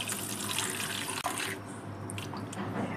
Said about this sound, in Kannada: ಸ್ವಲ್ಪ ನೀರು ಹಾಕಿ ನೆನೆಸ್ಕೊಳ್ಳೋಣ